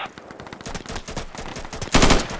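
Gunfire in the video game Insurgency: rapid automatic bursts of close, loud shots in a fast repeating rhythm, building into a heavier volley near the end.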